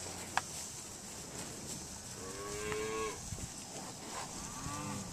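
Black Angus cattle moo across an open pasture, a few drawn-out lowing calls at moderate distance over a soft outdoor background, with no talk.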